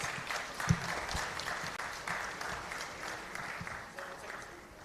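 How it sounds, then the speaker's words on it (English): An audience at a design forum gives a steady, full round of applause, many hands clapping together continuously at moderate distance with no talk over it. "Can we hear a louder round of applause?"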